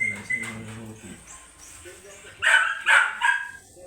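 A few sharp dog barks in quick succession near the end, following quieter talk and whimpery sounds.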